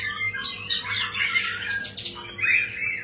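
A white-rumped shama (murai batu) sings close by, a loud run of bright whistles, rapid trills and sharp chirps varying in pitch with short gaps between phrases.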